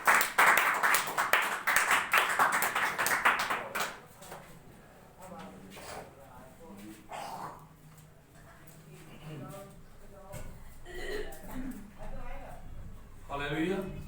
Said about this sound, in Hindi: हम जोरदार तालियों के साथ अपने पास्टर साहब का वेलकम करेंगे